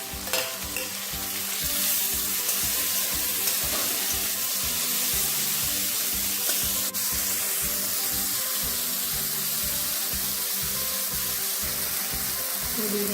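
Chopped tomatoes hit hot oil in a pan for dal tadka, giving a loud, steady sizzle and frying crackle with stirring scrapes throughout, no voices.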